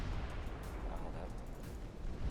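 Naval guns boom in the warship battle game Ultimate Admiral Dreadnoughts, a dense rumbling wash of distant cannon fire and explosions rolling on without a break.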